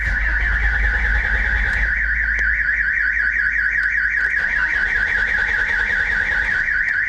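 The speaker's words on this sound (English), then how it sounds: "at the moment I turn the ignition on, alarm goes off." A 1989 BMW E30's Clifford aftermarket car alarm blares continuously when the ignition is turned on, a loud warbling siren cycling steadily up and down without pause, close by and alone.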